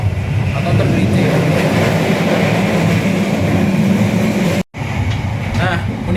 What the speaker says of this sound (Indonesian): suara yang keras sekali bordes ini bisa didengar di mana-mana di bordes